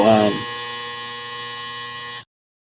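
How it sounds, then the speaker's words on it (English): A clothes dryer gives off a steady, loud electric buzz with layered humming tones. It holds evenly for about two seconds and then cuts off sharply. A voice is briefly heard at the very start. "that was the dryer going on"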